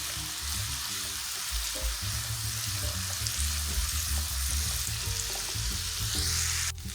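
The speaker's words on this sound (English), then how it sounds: "you want to add in your minced garlic, and we're going to saute that for 1 minute" Minced garlic sautéing in a hot pan while cooking cabbage, a steady, continuous sizzle and crackle close by, with faint stirring clinks, and no one speaking over it.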